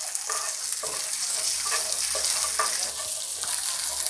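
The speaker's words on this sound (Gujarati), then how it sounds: "તેલમાં આ રીતે હલાવતા રહીશું" Karamda berries frying in hot oil for a sambharo, a steady close sizzle with a spoon scraping and stirring through the pan in repeated strokes, with no voices.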